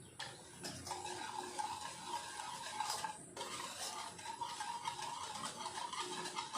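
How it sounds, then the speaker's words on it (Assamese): Mango cake batter gets stirred and mixed in a bowl, producing a steady close scraping and swishing with light clinks of the utensil against the bowl, and no voices heard. "এইখিনি মই সুন্দৰকৈ এইদৰে মিহলাই ল'ম।"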